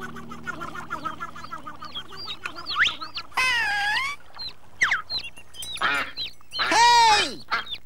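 Ducks in a family scene with ducklings, a protective mother duck among them, giving loud nasal quacks and squawking calls in separate bursts over faint background chirping, with no talk.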